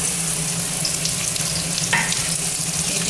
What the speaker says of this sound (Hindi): ये मैंने एक बड़ा चम्मच सरसों का तेल लिया है, अब मैं इसमें डालूंगी जीरा और फिर जो आम भी काटी थी वो डाल दूंगी